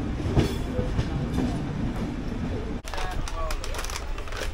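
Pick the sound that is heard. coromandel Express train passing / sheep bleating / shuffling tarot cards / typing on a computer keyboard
coromandel Express train passing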